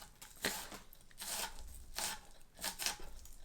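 A knife finely chopping onion on a cutting board, the blade striking the board in a few soft, irregular bursts of quick cuts while the onion is pushed forward, close and fairly quiet with no talk.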